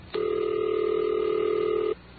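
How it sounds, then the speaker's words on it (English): A single steady telephone tone sounds alone for about two seconds, clean and continuous, from an old-time radio broadcast about Bell telephone dialing and ringing. "until the phone rings at the number you dialed"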